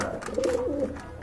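Pigeons coo nearby in a short, clear rolling call that rises and falls over about a second, with light room noise behind and no talking.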